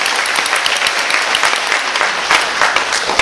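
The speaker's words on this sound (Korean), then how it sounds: "박수는 신나게 열정적으로." Enthusiastic applause from an audience at a talk, dense steady clapping filling the room for a few seconds without pause.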